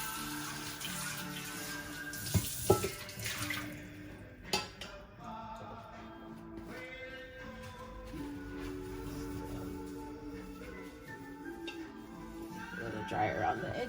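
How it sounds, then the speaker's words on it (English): Water runs and splashes as the inside of a cooking pot is rinsed, with a few metallic clanks and knocks against the pot, fairly faint and close, while a person talks throughout. "I'm just gonna do a quick rinse of the inside."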